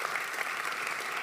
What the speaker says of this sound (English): A warm applause for Berni Good,